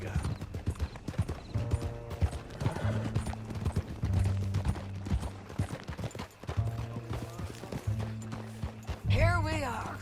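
Horse hooves clip-clopping in Red Dead Redemption II, a steady walking rhythm of hoof beats under a mix of game music and characters talking, with a horse whinny near the end.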